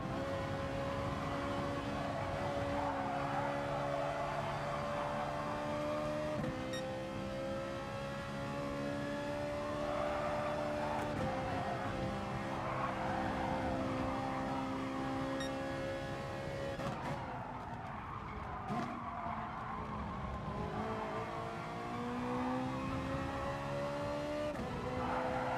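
Ferrari race car in Gran Turismo Sport, engine droning and rising through gears as it accelerates, joined by other cars' engines in a steady, continuous racing roar with no talk.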